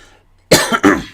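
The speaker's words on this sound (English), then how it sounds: "Excuse me, had to clear my throat there." A man clears his throat twice in quick succession, close and loud, after a moment of near silence; two rough, forceful bursts with a brief gap between them, no words spoken.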